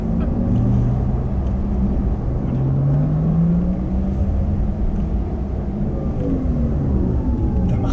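A Porsche Taycan braking hard on the Hockenheim racetrack gives off a loud, steady rumble of road and drive noise, with gliding electric whine tones that sweep down and up throughout.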